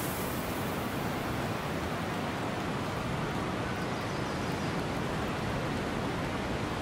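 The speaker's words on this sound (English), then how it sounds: "Oh, it's raining." Steady, dense hiss of rainfall in the video game Jurassic Park VR Golf, constant and unbroken throughout, with no voices or other sounds standing out.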